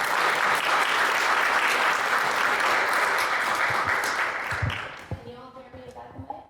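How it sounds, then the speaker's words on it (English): An audience at a corporate talk on supporting a global workforce gives a speaker a round of applause, a dense burst of clapping that holds strong and then thins out into scattered claps and murmurs. "Let's give her a round of applause."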